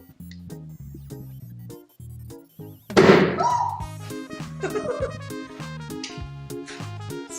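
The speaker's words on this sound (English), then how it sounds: "It go boom." A heated oxygen chemistry demonstration ends in a small fireball: one muffled, whooshing bang near the middle, with a softer rumble afterward, all under steady background music.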